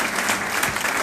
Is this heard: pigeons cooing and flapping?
no